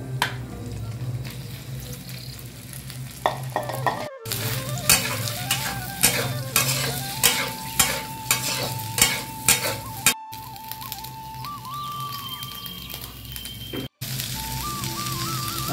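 A masala of ginger paste, black pepper and cumin fries with potatoes in a pan, a steady sizzle broken by a run of rhythmic scraping stir strokes, close up, with tonal beeps in the background and no talk.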